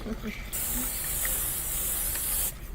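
Pam cooking spray blasts into a pan for an omelet as one steady, fairly loud hiss lasting about two seconds, with brief kitchen noise before and after it.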